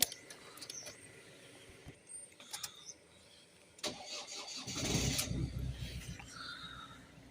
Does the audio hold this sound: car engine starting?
yes